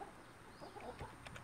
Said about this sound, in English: The chickens come out, and we throw them a little bit of scratch or grain just to get them started.